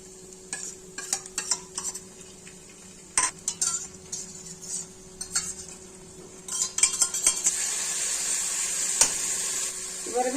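Ginger, cumin, coriander and dried chili pastes frying in a wok for snakehead fish kalia, with steady stirring scrapes and clinks over a soft sizzle that grows louder and brighter toward the end.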